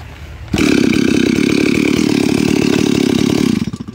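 A Stihl 034 Super chainsaw is pulled and fires up abruptly, then runs loud and close at a steady, rough idle for about three seconds before the engine sputters and fades.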